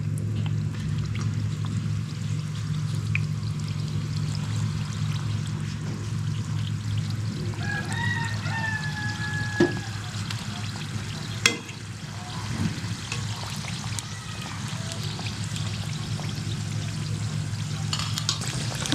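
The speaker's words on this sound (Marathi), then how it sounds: "आता आपला तेल छान असं तापलेलं आहे आणि आपण आता ह्याच्यामध्ये हे समोसे सोडणार आहोत" Prawn samosas dropped into hot oil to deep-fry, a soft continuous bubbling and frying hiss with a few clinks and pours, fairly quiet, under a low background hum.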